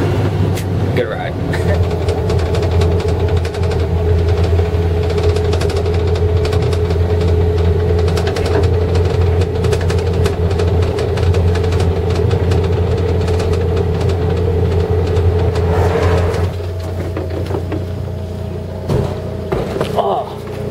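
Steady engine drone of a car ride while hitchhiking on Lesser Kinmen Island, a constant low hum with rattles and road noise throughout that eases off near the end.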